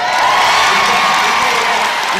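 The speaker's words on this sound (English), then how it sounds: "You can hear whistles from the crowd there." A crowd at the Hickstead Derby show jumping cheers and whistles, a dense, loud and steady roar of voices with high whistles that holds for about two seconds.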